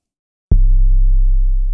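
After half a second of silence, a loud, deep 808 bass note from the Vital synth hits with gritty, clipped saturation from a classic clip preset and sustains, slowly fading.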